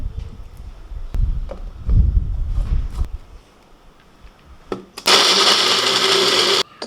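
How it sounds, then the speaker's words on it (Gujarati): Soft thuds and handling noises, then a mixer grinder whirs loudly for about two seconds as it grinds spicy garlic chutney with about 100 ml of water, stopping abruptly. "અને સો એમએલ જેટલું પાણી એડ કરી અને પીસી લઈએ"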